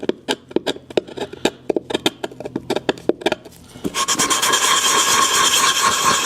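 Rhythmic scraping strokes of sanding on the wood of an Eames LCW chair, then a steady loud whirring rasp like a power sander running continuously, close up.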